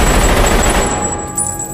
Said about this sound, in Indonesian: Michael Sullivan melepaskan tembakan membunuh semua pengawal McGovern